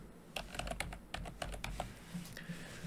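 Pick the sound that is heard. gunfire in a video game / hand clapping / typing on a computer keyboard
typing on a computer keyboard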